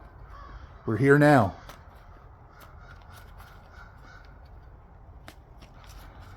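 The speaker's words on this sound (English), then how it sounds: "As you hear the birds, as you hear all of these crows flying over." Crows flying overhead let out one loud, harsh caw burst near the start, followed by quiet outdoor ambience with a few faint clicks, and a voice speaks briefly.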